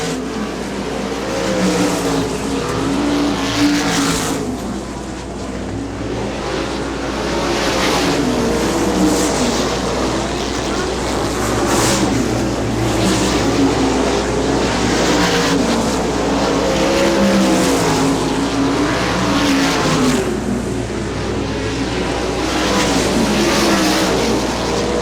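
IRA sprint cars race around Butler Motor Speedway, their engines roaring loud and unbroken for the whole stretch, pitch rising and falling as the pack circles the track, with no talking.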